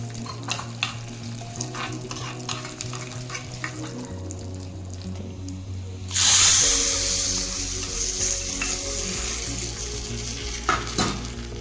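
Mustard seeds, cumin and asafoetida sizzle in hot oil for a tempering, a close crackling fry with stirring taps, surging sharply louder partway through as more goes into the pan.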